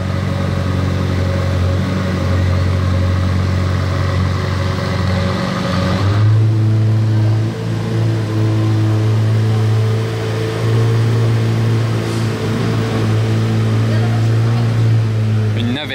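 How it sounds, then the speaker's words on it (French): A McLaren Senna LM supercar pulling away on a Monaco street, its engine droning loudly with a steady low hum that shifts pitch midway as it moves off, with background street noise around it. "Départ de la Spaceship McLaren Senna LM"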